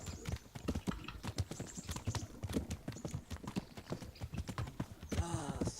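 A horse's hooves clip-clop in a brisk, steady rhythm of crisp strikes in the medieval game Kingdom Come: Deliverance, up close and loud, with a short voice at the end.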